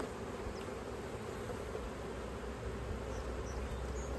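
Honey bees buzz steadily after being dropped into a hive box, a dense continuous drone held close and level throughout, with no talking.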